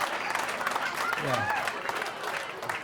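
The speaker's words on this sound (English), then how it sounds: "I hate that applause because it wasn't for me." Audience applause fills a comedy club, a dense steady wash of clapping from a crowd that runs throughout, with no clear voice standing out.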